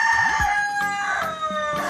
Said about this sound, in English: the rooster crowing in the backyard